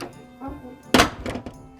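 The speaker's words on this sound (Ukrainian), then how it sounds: "Тут двері треба гупати так, щоб е, все гриміло, тому що інакше воно не защитує" A new car's door is slammed shut hard, making a single loud, close thump in the middle, with softer knocks and handling noises around it.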